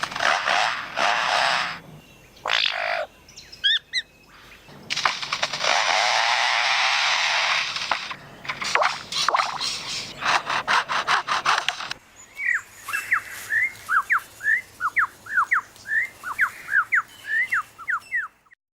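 A superb lyrebird imitates foresters' chainsaws at work, producing long, loud rasping buzz bursts, then a rapid run of sharp, repeated chirping notes.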